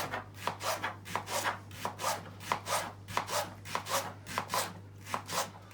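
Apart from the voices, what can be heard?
chopping leeks with a knife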